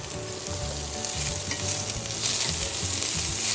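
Amaranth greens (note shak) frying in a pan as they are stirred, with a dense, steady sizzle and the scrape of a spatula close by. No one speaks.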